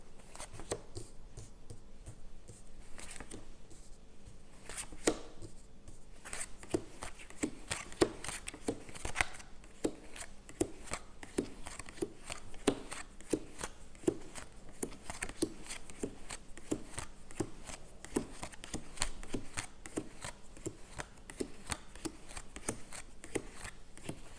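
Tarot cards being shuffled and laid out, a steady run of soft flicks, slaps and taps close by, with no talking.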